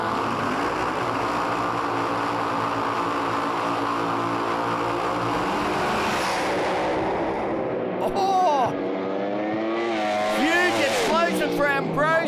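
Pro Alcohol drag racing car revving hard at Sydney Dragway, a loud sustained engine roar with gear changes that fades, while a commentator talks over the last few seconds.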